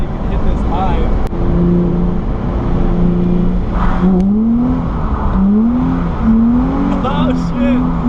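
Nissan 350Z with a welded differential drifting: a loud engine holding high revs that keeps rising and falling, with tire squeal mixed in and voices talking over it the whole time.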